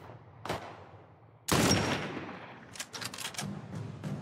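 Gunfire in The Last of Us Part 1 on PS5 comes as a single sharp shot, then a loud blast with a lingering tail, followed by a quick burst of several cracking shots, all fairly close.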